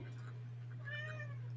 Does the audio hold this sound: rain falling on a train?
no